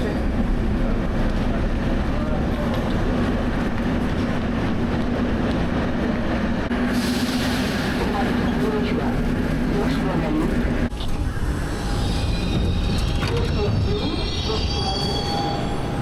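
A metro train in Uzbekistan runs loudly with sustained wheel squeal and rumbling rail noise, shifting in tone partway through as the car moves, with people talking faintly beneath it.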